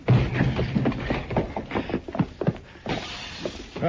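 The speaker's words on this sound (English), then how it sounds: "They crashed out through the front window, Mr. Dillon." Men smash out through a glass front window in a loud burst of shattering, followed by a scattered run of glass fragments cracking and tinkling close by.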